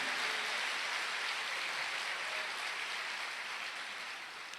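A church congregation applauds in a sustained, even wash of clapping that fills the room, slowly fading toward the end, with no talk over it.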